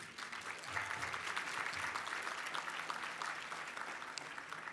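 Guests at an Urban League annual dinner give a modest, thin round of clapping that carries steadily through the stretch at moderate distance, with no talking over it.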